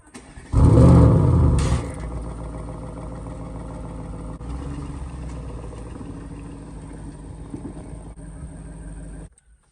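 An Audi RS6 engine starts with a loud burst, then settles into a steady, rumbling exhaust idle close by, running for several seconds before cutting off.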